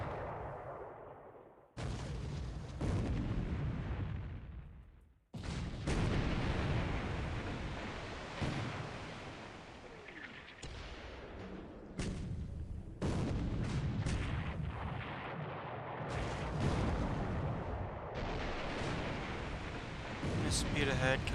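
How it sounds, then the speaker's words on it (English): Heavy 8-inch naval gunfire pounds the carrier Kaga in War in the Pacific, long rumbling blasts and booms with surf-like roar, broken by short gaps, under intermittent talk. "We do hit the Kaga's flight deck with an 8-inch"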